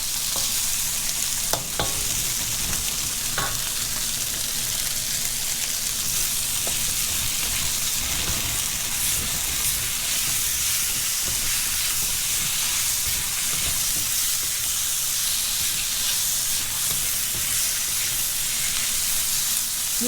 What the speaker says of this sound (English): Stir fry is cooked in high heat, basically. So what I'm gonna do is just cook this shrimp really fast.